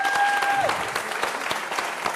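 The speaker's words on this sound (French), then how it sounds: "On les applaudit." A television studio audience at a French dance music show claps loudly and evenly for about two seconds, with a brief held tone at the start and no speech on top.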